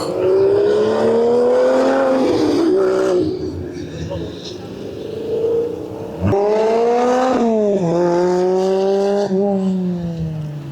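A powerful GT4 race car drives hard on a circuit, its engine roaring loudly and rising in pitch through the gears, briefly dipping before surging again on another hard pull.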